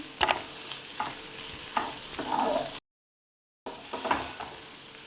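Grated coconut and ripe banana roast in a pan, with soft sizzling and repeated scraping stirs of a spoon across the metal, moderately faint and close, broken by a brief silent gap.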